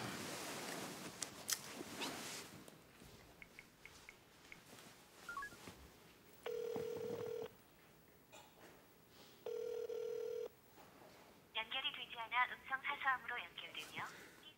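An unanswered phone call, two long buzzing rings spaced apart, then a burst of warbling electronic tones, heard at low volume with people talking quietly between rings.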